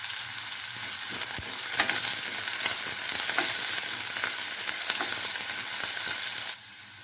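Sliced big onions and curry leaves frying in hot oil while potato bonda is made, giving a steady, close sizzle with light stirring scrapes, ending abruptly near the close.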